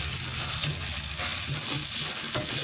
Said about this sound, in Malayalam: ഇത് നമുക്ക് അരപ്പ് നമ്മുടെ തോരനോട് നല്ലതായിട്ട് നമുക്ക് മിക്സ് ചെയ്ത് കൊടുക്കാം